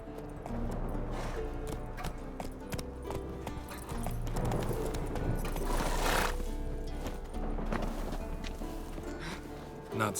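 Warhorse hooves clip-clopping in The Witcher 3 gameplay, a steady walking rhythm of hoof strikes mixed with game ambience, voices and occasional louder bursts.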